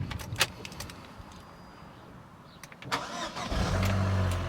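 Vauxhall Corsa VXR with a fully forged engine starting for the first time: quiet clicks and rustles, then the starter cranks and the engine catches into a steady, loud idle close by, with no talk.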